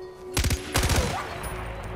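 Gunfire in the video game Far Cry 4 sounds as two quick bursts of rapid shots, loud and close, followed by a fading echoing tail over steady game ambience.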